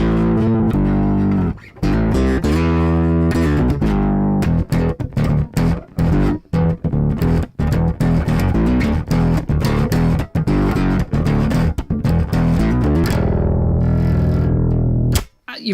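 A bass guitar played through the distortion of a Boss OC-3 octave pedal: loud, gritty, sustained notes and choppy riffing with brief gaps, with no voices.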